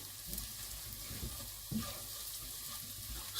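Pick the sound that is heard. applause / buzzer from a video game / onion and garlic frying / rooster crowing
onion and garlic frying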